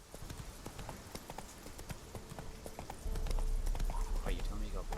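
Roach the horse's hooves clip-clop along a road in The Witcher 3, a quick steady clatter of hoofbeats close by, with a louder rumble of movement joining partway through.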